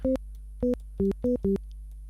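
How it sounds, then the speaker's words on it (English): Five short, clean tones from a Woovebox synthesizer's plain sine wave oscillator in a quick, uneven melody, each with a soft click at the start, playing alone. "normal sine wave"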